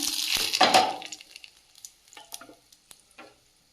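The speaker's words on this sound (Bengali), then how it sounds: "ফ্রাই প্যানটা চাপিয়ে দিয়েছি দিয়ে দিয়েছি তেল তেলটাও গরম হয়ে গেছে দিয়ে দেব দুটো তেজপাতা" Two bay leaves hit hot oil in a frying pan and crackle into a loud sizzle up close, which quickly dies down to sparse pops and light crackles on their own.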